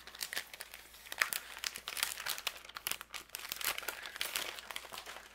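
A very thick pack of craft stickers crinkles and rustles steadily as it is pulled out and handled, close up with sharp plastic crackles throughout.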